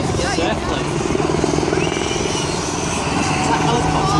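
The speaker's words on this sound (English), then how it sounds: "That helicopter is like right up." Helicopter flying low overhead at a busy coastal spot in France, a steady loud rotor and engine roar filling the whole clip, with people talking underneath it.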